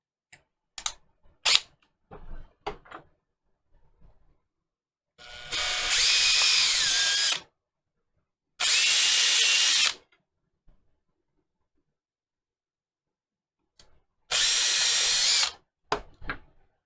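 A power drill bores holes through fan mounts in three loud bursts of whining spin, separated by silences and small clicks of handling.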